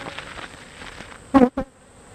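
Honey bees buzz at a hive, a steady insect drone close by with a couple of louder bursts as bees pass near.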